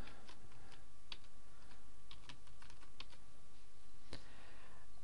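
Typing on a computer keyboard while entering a password during website setup: quick, irregular key clicks close by over a steady background hiss, with a slightly louder keystroke near the end.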